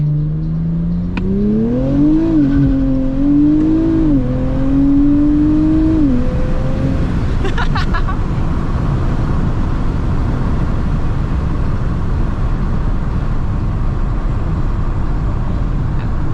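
A Nissan Z accelerates hard in first gear at night, engine note climbing in stepped rises toward redline before cutting off into loud road and wind rumble that continues steadily.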